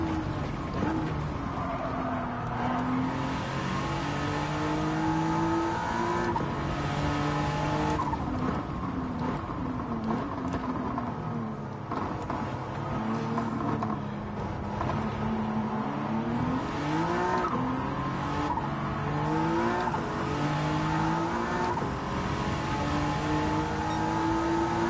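Race car in Gran Turismo 7 accelerating hard on nitrous to around 180 mph, a loud continuous engine roar rising through repeated upshifts with whining pitch sweeps and occasional tire squeal, steady and close throughout.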